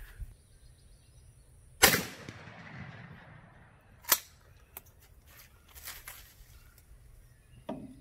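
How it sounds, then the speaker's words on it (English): One loud 12 gauge shotgun blast is fired at a paper target, a sharp crack that fades into a short echo, followed by quieter clicks and handling noises. "And I'm going to shoot one with a 12 gauge in the top part of our paper."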